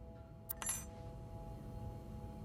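Brief metallic jingle of keys picked up in a video game, two quick bright clinks close together, faint over a low steady background hum.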